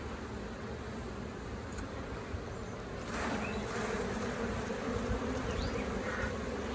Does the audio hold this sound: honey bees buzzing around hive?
yes